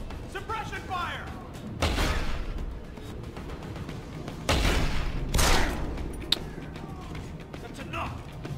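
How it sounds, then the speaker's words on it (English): Suppression gunfire in Deus Ex: Human Revolution erupts in two loud, close bursts of rapid shots separated by a lull, with voices shouting during the action. "Suppression fire!"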